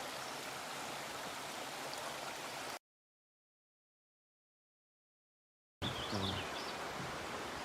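Ten Mile River on the Appalachian Trail flowing beneath a footbridge, a steady broadband rush of water heard close by, cut off by a gap of silence partway through before resuming.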